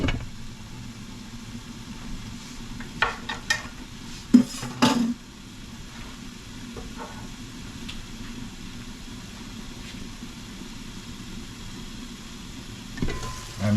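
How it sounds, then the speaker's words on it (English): Eggplant sautés in a pan, a steady low frying hiss running throughout, broken by a cluster of clinks and scrapes of a utensil against the pan near the middle and again at the end; no one speaks. "Now sauteing nicely. The eggplant is going to take a little more time to get soft."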